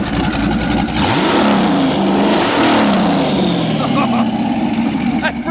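A 2020 Factory Five GTM supercar with an LS3 V8 revs hard twice, each rising roar falling back to a rumbling idle, loud and close with no talking.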